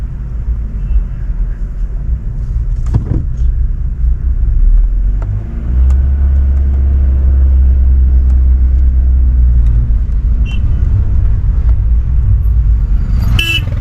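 A car engine labours with low power on a high mountain road on a Leh Ladakh trip between Baralacha-la and Pang, giving a loud, continuous low rumble with a heavier drone midway.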